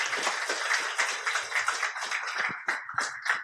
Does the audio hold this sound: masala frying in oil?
no